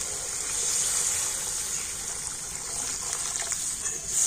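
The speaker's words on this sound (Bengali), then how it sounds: "গরম জল।" Hot water pours steadily into a pan of curry made with taro root, yogurt and fried spices, a continuous close gushing splash that swells slightly at the end.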